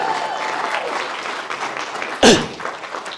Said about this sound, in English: Come on, round of applause, guys.